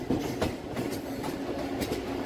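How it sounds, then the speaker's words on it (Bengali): A Naihati–Sealdah local train pulling away, its wheels clattering in a steady rhythmic clickety-clack under a continuous loud rumble, heard close by. "নটা 10-এর নৈহাটি শিয়ালদা লোকাল ছেড়ে যাচ্ছে।"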